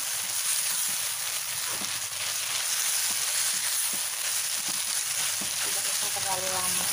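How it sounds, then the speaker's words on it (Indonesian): Shredded chicken frying in dry kecombrang (torch ginger) oil, a continuous bright sizzle with soft scraping as it is stirred, steady throughout. "Ini kita aduk lagi seperti ini."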